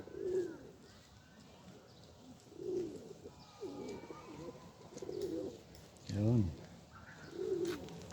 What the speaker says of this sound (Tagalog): May nakikiagaw pang maliliit na ibon.